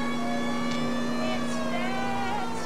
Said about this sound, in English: I would think the giant siren blaring out of the tunnel would be some clue.